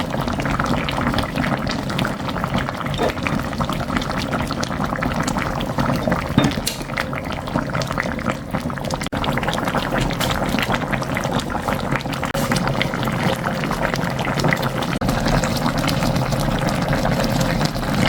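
Kodari braise of dried pollock with green onion and chili simmers on low heat in a pot, a continuous soft bubbling and sizzling that runs steadily and close for about eighteen seconds, with no voices.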